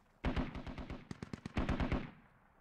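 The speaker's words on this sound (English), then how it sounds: "We got a lot of shots down here." Automatic gunfire in the Squad video game, close and loud: quick bursts of rapid shots, a short gap, then two more tight bursts in a steady rattling rhythm that clips off abruptly.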